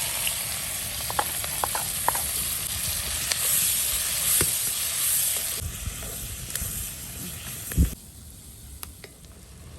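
Three onions sizzling in hot oil with cinnamon, cardamom, cloves and star anise, a steady close frying hiss punctuated by occasional clicks and a stir, fading quieter near the end.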